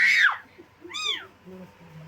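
Two short, high kitten meows close by, the second clearer, with a faint voice murmuring underneath.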